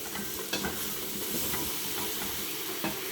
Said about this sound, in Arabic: راني نسوتي لي ليغوم تاعي